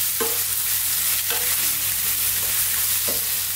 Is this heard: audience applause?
no